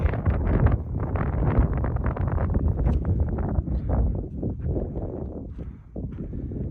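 Steady low buffeting wind roars across the microphone throughout on top of Tinker Knob, a mountain summit on the Pacific Crest Trail, rumbling and gusty, with no clear voices.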